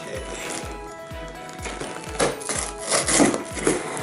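A knife cutting open a package, with a series of regular scraping, tapping strokes in the first half followed by louder, uneven rustling and scraping toward the end, close by and with no talk.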